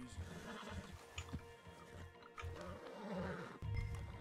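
Horse whinnies in Red Dead Redemption 2, a few neighs rising over low rumbling game ambience and hoof movement, fairly close and moderately loud.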